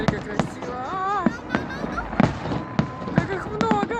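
A birthday fireworks salute pops and bangs in a scattered series of sharp reports, some near and some farther off, while people talk and exclaim over the bursts.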